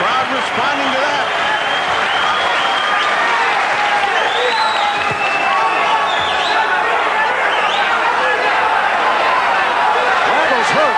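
Loud, sustained roar from a boxing crowd at a lightweight bout, reacting to two hard right hands, with a dense wash of cheering and shouting that never lets up, under ringside commentary.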